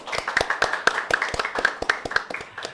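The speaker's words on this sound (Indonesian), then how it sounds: "Beri tepuk tangan." An audience at an official event with the Acting Governor of Bangka Belitung Islands Province claps in a fairly sparse, steady flurry of individual handclaps that runs close and moderately loud for the full stretch, with no talking.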